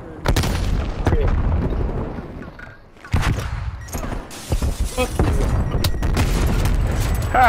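Grenade launcher explosions in a video game match, a series of close bursts and thuds scattered through a busy mix of gunfire and game noise, with a voice talking over parts of it.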